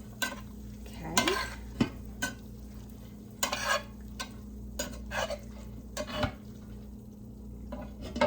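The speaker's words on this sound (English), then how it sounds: "We are now going to add our ground beef, well, ground venison." Ground venison going into a pot for canned venison soup, with a spoon stirring and scraping through it over a low sizzle, several sharp clinks against the pot.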